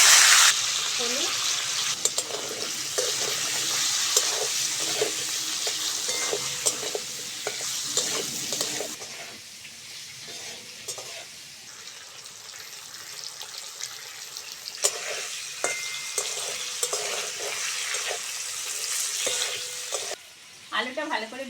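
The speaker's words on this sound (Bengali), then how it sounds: "প্রথমে তেল দিয়ে আলুটা ভেজে নেব।" Potatoes fry in hot oil in a pan for a Bengali prawn and potato curry, a steady close sizzle with scattered stirring scrapes and clinks throughout, easing slightly midway before continuing.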